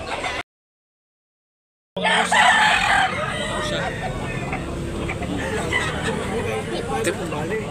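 After a short cut to silence, roosters at a gamefowl farm in Tabunok, Talisay, Cebu crow and cluck over a dense background of bird noise, with someone speaking faintly beneath the crowing.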